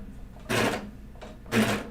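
A serger sewing machine stitches and trims fabric for children's pajama bottoms in two short whirring runs, each about a quarter second, separated by quiet.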